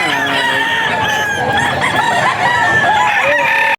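Rooster crowing among chickens for sale at a poultry market in Bocaue, Bulacan, a loud drawn-out crow rising and falling over continuous clucking and background fowl noise.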